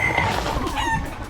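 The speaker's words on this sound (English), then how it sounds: "These are weird chickens." Chickens clucking close by in the Stellenbosch wine country of South Africa, a short burst of overlapping squawks and clucks with no talk.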